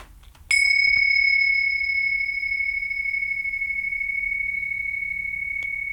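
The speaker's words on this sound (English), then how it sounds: "This is called tingshas." Tingshas, small Tibetan cymbals, are struck once, giving a bright, pure ringing tone that sustains and slowly fades for several seconds, close and alone, with a faint second touch near the end.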